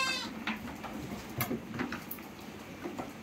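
Desi goats bleat on a goat farm, several short, nasal calls scattered across the clip amid soft rustling and background farm noise.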